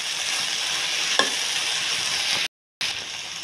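Onion, potato and mixed vegetables sauté in a pan with a steady hiss of frying, a single stirring clink, and a short silent gap near the end.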